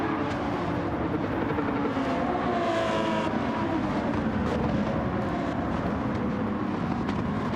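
A Porsche 917K race car in Gran Turismo 7, played in virtual reality, roars at speed, a dense, continuous engine drone that holds steady throughout with slight swells in pitch.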